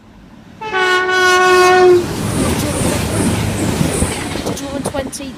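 A CrossCountry train on the Birmingham New Street to Edinburgh service runs straight through Northallerton station's platform 2 without stopping, sounding a loud sustained two-tone horn before the roar and rumble of its wheels sweep past.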